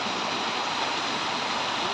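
Heavy rainwater floods and rushes along a canal and street after a downpour in Nandyal district, a steady broad roar of flowing water filling the scene without a break.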